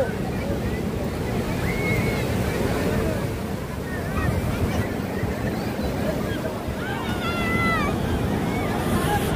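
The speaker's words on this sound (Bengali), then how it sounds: "যে দূরে ঢেউগুলো দেখা যাচ্ছে কত বড়।" Sea waves break on the crowded beach at Puri, a steady, loud surf roar with crowd chatter and distant voices of bathers mixed in throughout.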